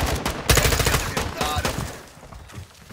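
Gunfire in a video game's DMZ mode, a dense volley of sharp shots and bursts that is loudest in the first half and then thins out, mixed with other game noise.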